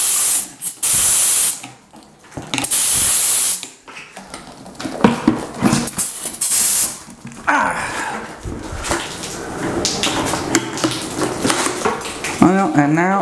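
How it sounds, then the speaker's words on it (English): Loud hissing bursts of an air spray hopper spraying drywall texture, cutting on and off several times, followed by clattering and rattling handling noises. "I'm gonna hook up the air hose and I'm gonna spray this."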